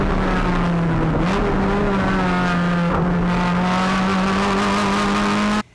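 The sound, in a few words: race car cornering with tires gripping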